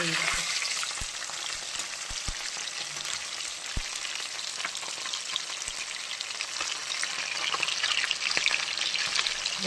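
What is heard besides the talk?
fish frying in oil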